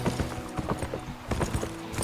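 Rhythmic hoofbeats from a horse in the game Pippa Funnell: The Golden Stirrup Challenge clop steadily throughout, close and fairly loud over a busy game background.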